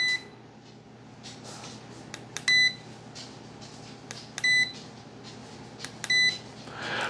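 Tesmen digital multimeters powering up: several short, clear electronic beeps, some in quick double bursts, spaced a couple of seconds apart over a faint steady background hum.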